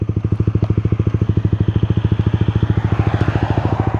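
Honda CBR150i motorcycle with a custom-built exhaust pipe, revving loud and close with a rapid, steady pulsing beat and a rough crackle throughout.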